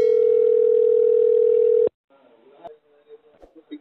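A steady telephone tone sounds loud and continuous for about two seconds on a call to the Dharani call center, then cuts off abruptly and faint line noise and voices follow.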